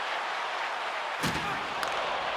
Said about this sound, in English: Good solid check, and he loses control of it.